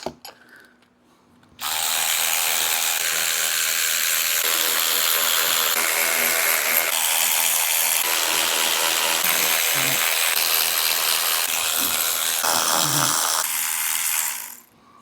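Ratchet pulling 9/16 intake manifold bolts on a V10 Magnum engine, a loud continuous mechanical whir lasting about thirteen seconds with a few knocking clanks near the end, no speech.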